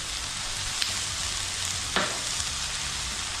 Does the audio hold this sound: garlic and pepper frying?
yes